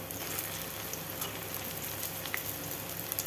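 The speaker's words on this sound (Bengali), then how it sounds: "এইভাবেই ভেজে নেব আমি সমস্ত বড়াগুলো" Grass pea leaf fritters fry in hot oil over a medium gas flame, giving off a soft, continuous sizzle and crackle with occasional sharper pops.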